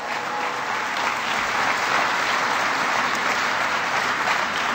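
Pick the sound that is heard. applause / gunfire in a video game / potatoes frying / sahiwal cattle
applause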